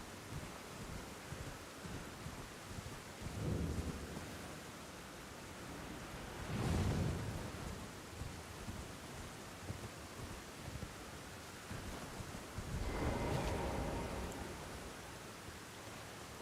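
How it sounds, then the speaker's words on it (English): In the game Elden Ring, steady rain hiss fills the background while low rumbles of thunder swell up a few times, soft and distant, with no voices. "we got lightning and it's raining"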